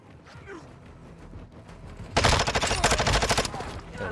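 Automatic gunfire in Call of Duty: Modern Warfare II on PS5, a sudden loud burst of rapid shots lasting about a second and a half after a quieter stretch, trailing off into softer firing.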